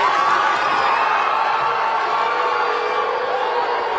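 A large crowd at Melania Trump's appearance in Baltimore lets out a steady, dense roar of cheering and voices. It stays loud and continuous throughout, with no single voice standing out.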